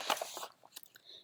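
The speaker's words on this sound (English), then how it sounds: "Bear gulps, bear gobbles" Storybook sound effect of a bear gulping and gobbling food: a quick burst of crunchy, wet chewing and biting up close, followed by a few smaller smacking bites that trail off.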